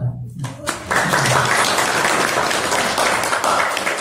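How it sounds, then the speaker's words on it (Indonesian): A room of listeners at a YIPC Yogyakarta interfaith discussion claps together. The sustained applause begins after a brief pause and carries steadily for several seconds, with a voice talking over it. "Boleh tepuk tangan."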